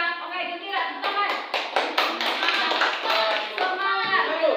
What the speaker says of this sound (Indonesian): Mari kita berikan tepuk tangan yang meriah untuk kita hari ini